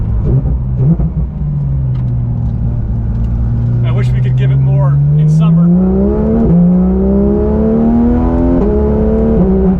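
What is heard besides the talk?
Porsche 911 accelerating with fast gear shifts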